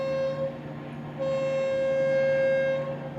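A boat horn on the water at Disney World's Magic Kingdom sounds a long, steady, fairly loud tonal honk, briefly broken, then holding on over soft ambient background.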